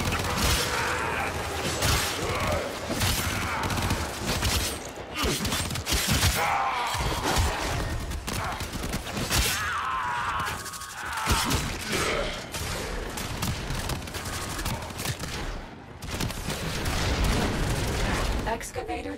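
In the Warframe video game an excavator is destroyed as constant loud gunfire, blasts and mechanical crashes pile up, with a dense, unbroken barrage and speech mixed into the chaos.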